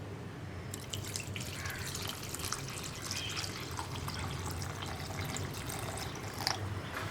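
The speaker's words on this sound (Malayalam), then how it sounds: "ഈ കുടംപുളി നമ്മൾ ഈ വെള്ളത്തോടു കൂടി തന്നെ ഈ ചട്ടിയിലേക്ക് ചേർക്കാം" Kudampuli soaking water pours into a clay pot for a sardine curry, a quiet, steady trickle with small splashes and drips, fairly close and without talk.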